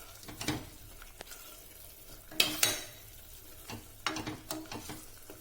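Egg biryani masala with chilli powder being stirred and sautéed in a pan, giving soft sizzling with scraping spoon strokes against the metal and a few sharper clinks, close up and with no talking.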